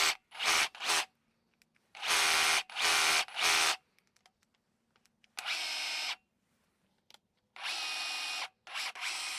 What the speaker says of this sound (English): you can switch it over to the drill mode, which is really simple to do with that selector switch, and drill